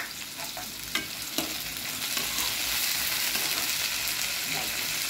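Green chillies and peas fry in oil for a mixed-vegetable poha, giving a continuous close hiss of sizzling with a few clicks and scrapes from stirring near the start.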